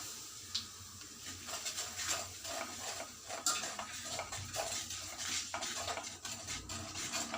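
Spices are stirred into hot oil in a pan for a Tamil potato poriyal, with a steady scraping of the spoon and clinks against the metal over a continuous soft sizzle, close and without speech.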